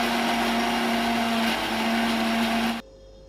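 A mixer grinder runs at full speed, loud and steady, blending garlic, mint, tomato and tamarind chutney, then cuts off abruptly near the end.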